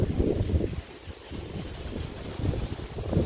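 Steady blustery wind buffets the microphone in low rumbling gusts, swelling and easing throughout with no voices.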